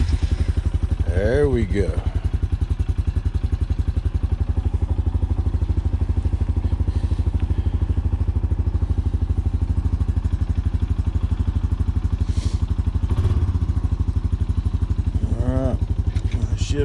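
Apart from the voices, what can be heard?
Honda ATV engine starting and running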